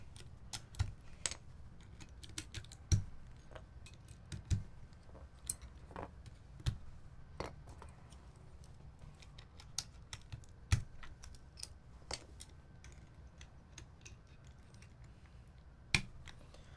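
Sparse, quiet clacks from a shiny PVD brass Ciel60 HHKB-layout mechanical keyboard as its stabilizers and bottom row are tested, with irregular single presses and a few sharper, louder hits at close range.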